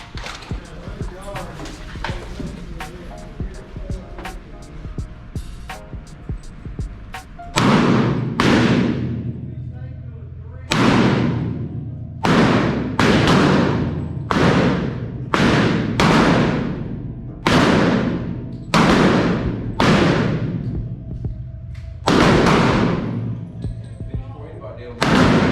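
Gunshots on a firing range during firearms instructor training: about a dozen loud, sharp reports, spaced irregularly, each with a ringing decay, following an opening stretch of faint background noise.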